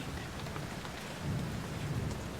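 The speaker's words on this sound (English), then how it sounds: "As I drive away into the rain." Steady rain falls with rolling thunder in a stormy downpour, a dense continuous wash that swells slightly louder midway, with no voices present.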